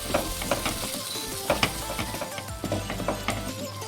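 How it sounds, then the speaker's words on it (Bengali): Ground spices, including Kashmiri chilli powder and coriander powder, frying in a pan for chicken chaap. A constant sizzle runs under repeated clinking stirs, close and steady, with no voices. "ভালো করে মিক্স করে দেবো।"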